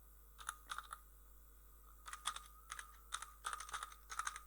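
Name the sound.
typing on a computer keyboard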